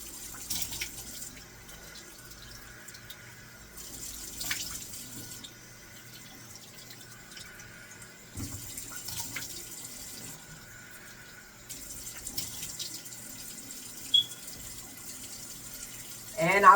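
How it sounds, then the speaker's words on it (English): Cold tap water running into a sink while someone rinses their face, quiet splashing that comes in several separate bursts with pauses between, in a faint indoor setting. "Turn the hot water off because I just like rinsing my face in cold water."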